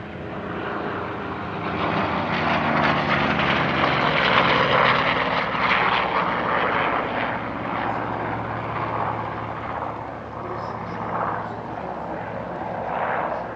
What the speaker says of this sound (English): powerful flypasts from the Amical Jean-Baptiste Salis F4U flown by Edmond Salis